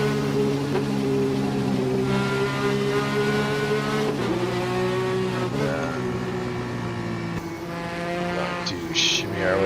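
GT3 race cars in a sim racing game at Watkins Glen, loud continuous engine drone with shifting revs and several cars running close together, steady throughout.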